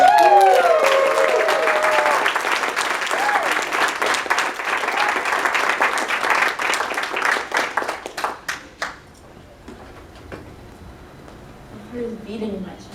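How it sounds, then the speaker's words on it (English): Audience at a poetry festival applauds the Vice Poet Laureate, loud dense clapping with some cheering voices early on, thinning into scattered claps and fading toward quiet by the end. "So please clap it up for the Vice Poet Laureate."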